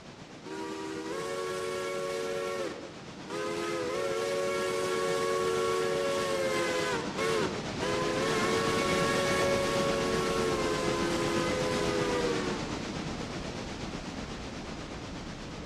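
A C&IM A-1 American 4-4-0 steam locomotive in the Railroader game sounds several long, loud chime-like whistle blasts with short gaps between them, over steady steam hiss.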